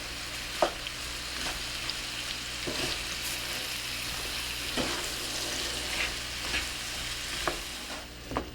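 Apples stirred in a pan of melted butter, brown and white sugar and cinnamon for a puff pastry strudel filling: a steady sizzle with scattered spoon scrapes and taps against the pan, no voices.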